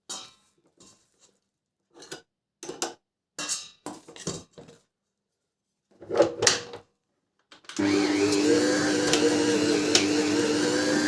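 Kerch dough mixer starts up after a few clinks and clatters, then runs with a loud, steady mechanical drone and whine close by for several seconds.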